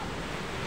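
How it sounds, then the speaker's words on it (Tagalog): Rain falls in strong wind during a low-pressure storm, a dense, even rushing hiss of drops and gusts, loud and unbroken with no voices. "Yung patak-patak ng ulan. Lakas."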